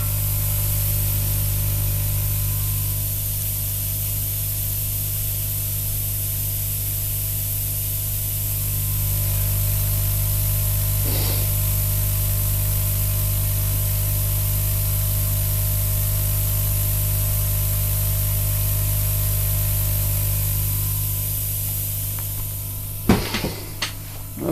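An HHO gas flame burns from a nozzle with a steady, loud hissing roar over a constant low hum, ending with a few clanks near the end.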